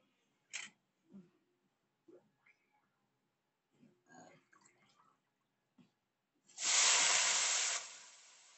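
Oil bursts into a loud, bright, close sizzle in a wok as vegetables, bitter gourd, potato and pointed gourd, go in for frying. Scattered clinks and soft kitchen sounds come first, and the sizzle then fades down over a couple of seconds.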